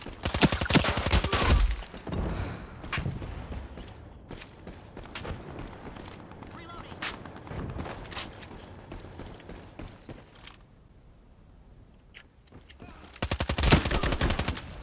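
Rapid automatic AR57 rifle fire in the online shooter Ironsight, loud bursts at the start and end with scattered distant shots and game effects between, no talk.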